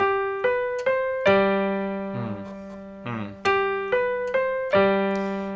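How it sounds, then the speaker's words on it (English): Piano notes played one at a time in a slow, steady pattern, low bass notes ringing out and decaying between strikes, clear and close. "I would suggest that you first go through and play just the bass note"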